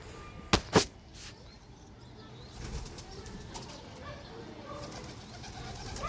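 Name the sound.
pigeons cooing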